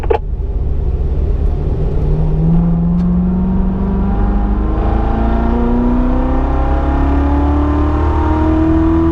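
A car engine revs up steadily and loudly under throttle, pitch climbing through several gear changes up to fifth gear with a constant roar, no voices.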